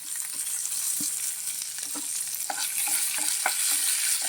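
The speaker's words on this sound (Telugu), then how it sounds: "ఉల్లిపాయ ముక్కలు వేస్తున్నాను." Onion pieces fry steadily in hot oil for curd chutney, a continuous crackling sizzle with occasional sharper pops and clicks of a utensil stirring the pan.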